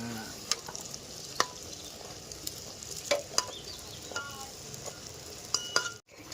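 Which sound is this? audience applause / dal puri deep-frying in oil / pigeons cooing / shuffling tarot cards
dal puri deep-frying in oil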